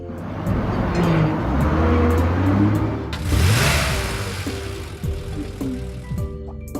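Engine sound effect for a yellow toy school bus: a loud motor that revs and surges in rising swells, with a brief dip partway through, heard alone without talk.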